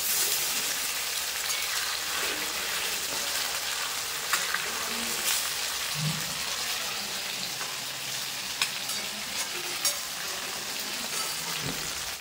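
Restaurant-style chicken chaap deep-fries in plenty of oil, giving a steady, bright sizzle with scattered small pops and crackles as the pieces are turned. No one speaks.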